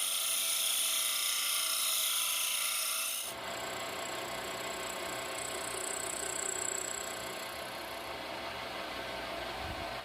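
A hand file rasps at the edge of a 2.7 mm steel plate washer to bring its outer diameter to size, a steady close scraping that runs through the whole clip with no speech, growing a little rougher partway through.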